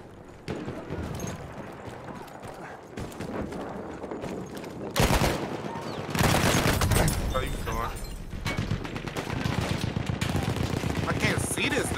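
LMG machine gun fire in Battlefield 1, heard as dense sustained automatic bursts with heavier booming stretches, loud and continuous across the scene, with people talking over it.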